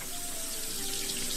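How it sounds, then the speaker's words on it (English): Water runs steadily from a tap in a ship's cabin bathroom, a continuous close hiss and splash with a faint tonal whine from the plumbing. "Running water."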